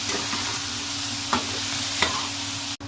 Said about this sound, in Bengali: আবার ভালো করে ভেজে নেব।